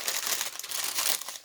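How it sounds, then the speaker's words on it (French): Wrapping paper around a diamond painting kit crinkles and rustles in a dense, close burst of crackling as it is unwrapped. "quand on déballe ce genre de papier, ça fait toujours beaucoup de bruit"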